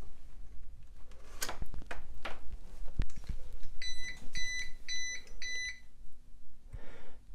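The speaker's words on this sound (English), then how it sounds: "now when we unplug the UPS, it should beep" A UPS battery backup unit, unplugged from power, sounds a series of sharp electronic beeps in quick clusters, following a few clicks and thumps of handling nearby.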